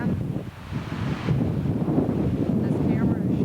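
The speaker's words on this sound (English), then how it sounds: "This camera is shaky because it's very windy." Strong wind buffets the microphone on a clifftop overlooking a river in Montana, a steady low roaring rumble that stays loud and continuous throughout, with no voices.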